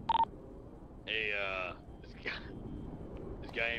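Telephone dialing and ringing tones in a city-vault robbery video game: a short beep, then a long warbling ring tone, a faint blip and another ring burst, heard softly under a low background hum.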